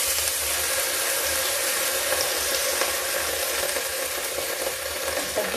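Mixed vegetables are stirred and tossed in a frying pan, giving a continuous close sizzle and hiss with soft scraping throughout.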